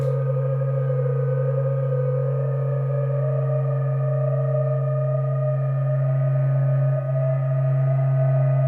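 A Eurorack modular synthesizer feeding a spring reverb back into itself: steady, droning feedback tones, a strong low hum with a wavering higher pitch above it, sustained loud and unbroken throughout.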